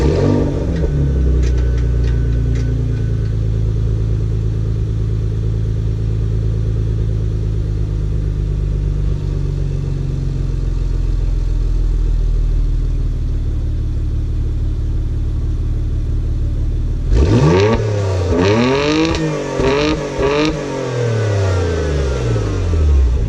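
Porsche Macan GTS engine heard up close, a deep steady idle rumble that lasts most of the time, then a burst of repeated throttle blips rising and falling sharply near the end.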